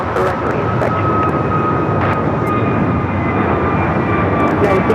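An American Airlines Airbus A321neo bound for Miami takes off, its engines a loud, steady broadband roar that holds throughout, with faint radio-style voices intermittently over it.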